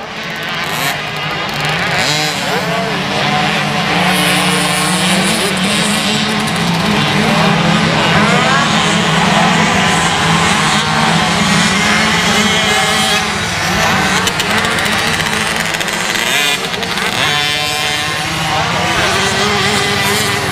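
Small 50cc motocross bikes racing at a Cessnock round for 7-9 year olds, engines droning and revving in a dense, loud wash, with a commentator talking over the top throughout.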